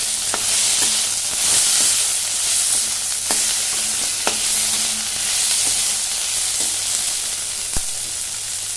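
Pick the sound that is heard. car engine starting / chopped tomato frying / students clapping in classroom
chopped tomato frying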